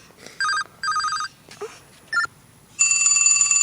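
A phone ringtone plays short bright electronic chirps in an uneven pattern, then a steady high ringing tone near the end, close and fairly loud with a faint background.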